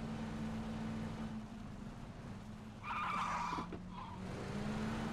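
A car in PUBG drives over a low engine drone, then breaks into a sharp tire skid midway. A briefer squeal follows before the engine hum settles again. No one speaks.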